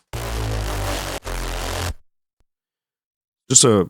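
Two gritty, distorted drum-and-bass sawtooth bass synth notes, layered and EQ'd, buzz loudly, followed by a pause and a short burst of a voice.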